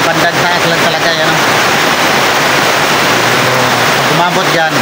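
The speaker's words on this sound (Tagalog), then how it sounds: "Yan, overflow pipe natin kasi nasa bandang taas lang talaga yan." Water gushing steadily from the overflow pipe of a fish farm after heavy typhoon rain, a loud continuous rushing wash with a voice speaking over it.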